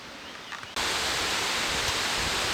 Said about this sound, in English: Just another waterfall.